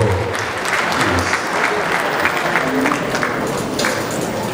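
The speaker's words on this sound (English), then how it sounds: "Ladies and gentlemen, a round of applause for Mrs. Perpetual Ofori-Ampofo." Loud, sustained applause from the audience at a nursing and midwifery awards ceremony in Ghana, dense clapping that holds steady from start to finish with some crowd voices beneath.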